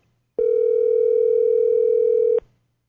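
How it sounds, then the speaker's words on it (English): A single telephone ringback tone while calling someone, one steady electronic beep lasting about two seconds, loud and clean against near silence. "Come on, pick up the phone."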